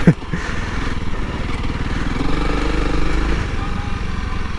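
A Honda CRF300L motorcycle ridden on muddy off-road single track gives a close, loud, steady engine drone with a throaty pulsing note and slight rises in revs throughout.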